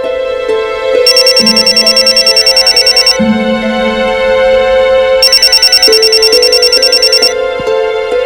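A loud electronic telephone rings in repeated bursts of rapid trilling tones, with two long ringing stretches over a steady musical background.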